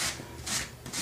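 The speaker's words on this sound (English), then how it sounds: "rough it up a little bit with some sandpaper" Sandpaper scrubbing a part during robot kit assembly, three rough, rasping strokes in a steady back-and-forth rhythm, close and fairly loud, with no talking.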